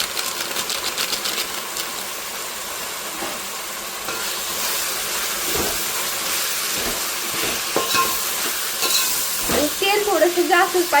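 Masala goes into village-style chicken biryani frying in a pan: a loud, continuous sizzle runs throughout, broken by irregular stirring scrapes and clatters that grow busier toward the end.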